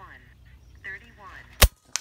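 A single sharp, loud shot from an FX Dreamline 5.5 Saber Tactical air rifle in stock factory tune, fired outdoors, with a fainter second crack just after; brief talk and background murmur come before it.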